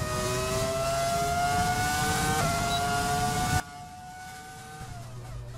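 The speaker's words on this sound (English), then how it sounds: "A V10 engine, definitely one of the better sounding engines we've ever had." A V10-engined Formula 1 car in the F1 2020 racing game gives a sustained, high harmonic engine scream. It cuts sharply to a much quieter engine tone partway through, with no voices.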